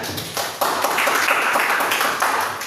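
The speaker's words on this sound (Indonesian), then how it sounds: "Oke, berikan tepuk tangannya." A class claps after a presentation, a short burst of dense, fairly loud applause from a modest group indoors.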